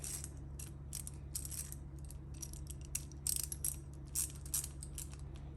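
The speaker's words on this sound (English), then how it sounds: "Take our 8mm, get a couple bolts started." An 8mm ratchet snugs bolts on an LSA 416ci engine during assembly, making faint, quick clicking bursts separated by brief pauses.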